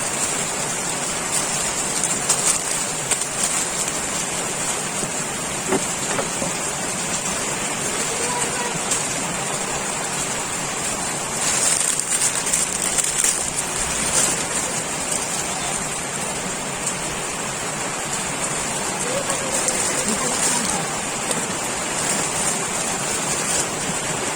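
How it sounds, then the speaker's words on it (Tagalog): Steady broadband hiss of heavy rain fills the whole stretch, a constant wash of falling water with faint background voices now and then. "Ang lakas na naman ng ulan."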